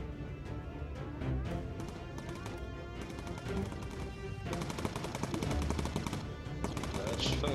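Rapid bursts of gunfire from the video game Bomber Crew, dense and continuous machine-gun rattle that swells toward the end, with voices talking over it.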